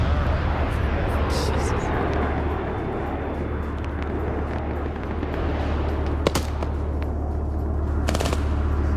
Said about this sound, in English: Got a tank firing at that plane.